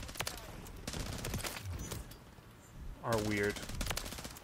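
Rapid VEL46 submachine gun fire in a Modern Warfare 3 match, dense bursts of shots crackling through most of the clip, with a brief spoken voice and game sounds mixed in near the end.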